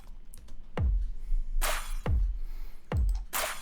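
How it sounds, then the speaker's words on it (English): Glass-breaking effects used as percussion in an electronic music track: two bright, crashing shatters land between deep booming kick hits in a slow repeating pattern, with no voices. "Then I have this glass breaking sound"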